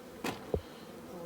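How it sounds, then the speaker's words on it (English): Wasps, or yellow jackets, buzz inside a flat roof: two brief, faint buzzes as insects fly past close by, over a quiet background. "Wasps, or as they call them in America, yellow jackets"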